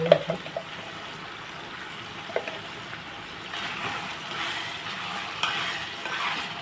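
Cashew paste gravy cooking in a pan, with a soft, continuous bubbling simmer and occasional stirring scrapes close by.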